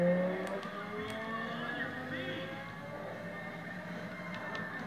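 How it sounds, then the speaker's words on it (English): A Dodge Viper's engine drones in a racing video game, a steady buzzing tone that shifts pitch as it revs, fairly faint and even throughout. "Oh, love the sound of a Viper."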